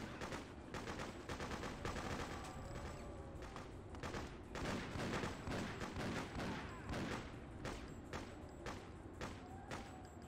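Continuous AK rifle fire during a Freedom Fighters campaign battle on Governor's Island, with repeated loud shots and bursts overlapping other distant gunfire and mechanical clatter, steady and busy throughout.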